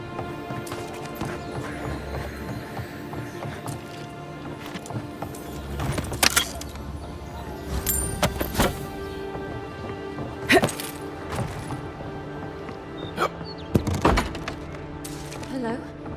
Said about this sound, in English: I hear unfamiliar footsteps, love.